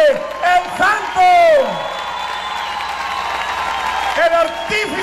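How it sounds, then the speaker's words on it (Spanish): Crowd at a political rally breaks into applause and cheering, with whoops and shouts rising over the clapping; a loud amplified voice sweeps over the crowd at the start and end. "vamos a dar un fuerte aplauso"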